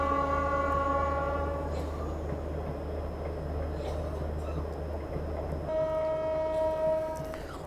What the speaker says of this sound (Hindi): ये देखो सहरसा गरीब रथ जो है वो निकल चुकी है सहरसा की तरफ